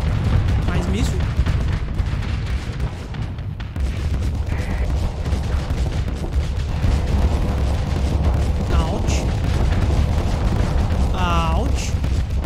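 Continuous missile explosions and bombardment in the space combat game Starsector, a dense rumbling barrage of booms with occasional sharper impacts, steady and loud throughout.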